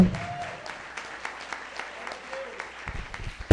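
Church congregation clapping during a Portuguese-language worship service, rhythmic scattered hand claps over a quiet room, with a voice briefly heard at the start and a burst of sound near the end.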